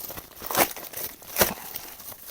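Crinkly plastic rustling with two sharper tearing bursts as a taped plastic parcel from AliExpress is unwrapped, close and fairly loud, no voices.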